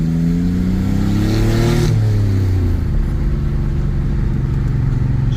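A 1996 Chevy S10 with a 4.3 engine and Holley Sniper injection accelerates under throttle, its loud, close rev climbing in pitch, dropping sharply, then settling into a sustained pull.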